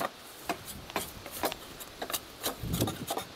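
Bark being stripped from crooked maple posts by hand, repeated short scraping and rasping strokes of wood at an uneven rhythm, fairly quiet and close.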